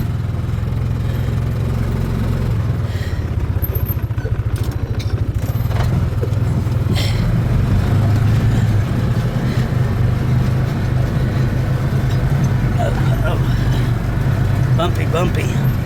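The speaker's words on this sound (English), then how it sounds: "take a little ride on the side by side" A side-by-side utility vehicle jolts along a bumpy farm track, its mid-pitched engine droning steadily and close by beneath someone talking, with occasional rattles and knocks from the rough ride.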